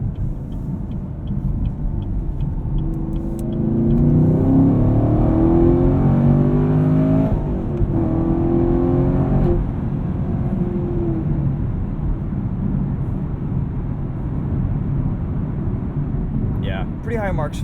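Orange 2018 Chevrolet Camaro 2SS with a six-speed manual cruising on a highway at night, its engine a steady low rumble with a brief rise in revs, heard from inside the cabin alongside someone talking.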